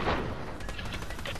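Pistol shots fired in a video game, a quick string of sharp cracks over a steady background noise, fairly quiet overall.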